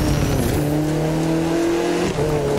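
An Audi TT spins its tires in the racing game The Crew 2, giving a loud, sustained engine drone and tire squeal that holds a steady pitch for a couple of seconds before shifting slightly near the end.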